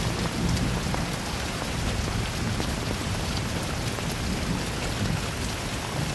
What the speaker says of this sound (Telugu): బాగా వానపడుతుంది, ఇంటికెళ్ళు.